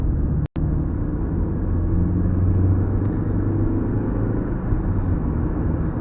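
A Volkswagen Passat's engine drones at night while driving, a loud steady low rumble with road noise and a brief dropout near the start.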